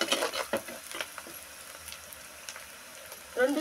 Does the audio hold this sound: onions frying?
yes